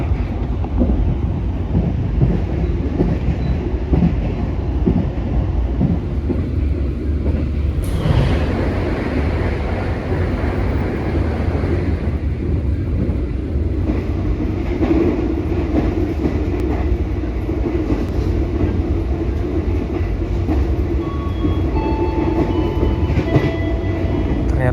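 An express passenger train running on rails in Java rumbles and hums continuously from inside the carriage, with steady wheel noise and a slight shift in tone partway through.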